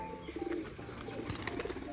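Pigeons cooing softly in a group, a few low murmuring coos that rise and fall against faint background noise, at moderate distance and fairly quiet.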